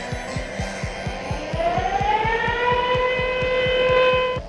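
Air raid sirens wail at the 1957 Burya missile launch site, a loud rising tone that climbs and holds over a fast, regular pulsing throb, alone with no talking.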